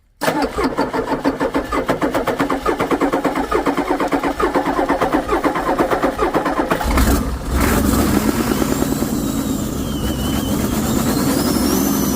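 A Ford 6.9 IDI turbo diesel engine cranks with a fast, loud rhythmic starter chug for about seven seconds, then catches and settles into a rough, steady diesel idle close by.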